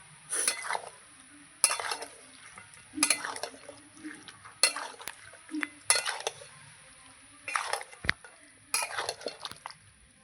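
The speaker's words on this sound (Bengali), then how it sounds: "আমি আলুর সঙ্গে মাংসটা কিছুক্ষণ কষে নেব তারপরে জল দেব" Meat and potatoes are stirred and fried in a pan, with repeated bursts of spoon scraping and clinking against metal over a faint sizzle and a steady high whine, the bursts separated by short quiet gaps.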